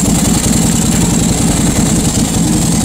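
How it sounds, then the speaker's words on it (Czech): A Ducati Hypermotard 1100 motorcycle idles nearby with a loud, even, throbbing pulse that holds steady throughout. "Příjemná motorka."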